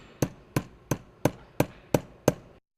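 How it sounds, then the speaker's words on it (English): A 1-pound hammer taps Flexco Alligator rivet belt fasteners on a John Deere baler belt, seven sharp, evenly spaced metallic knocks, close and crisp, with no talking. "Tap all fasteners with a 1-pound hammer until they touch the belt."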